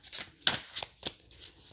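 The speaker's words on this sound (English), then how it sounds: "I shuffled the deck and opened to where I was just told to open" A deck of cards being shuffled up close, a quick series of crisp riffling flutters and soft slaps over under two seconds, with no talking.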